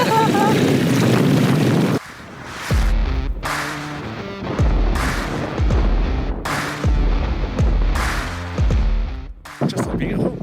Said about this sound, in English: So fire up the engine, it needs to be loud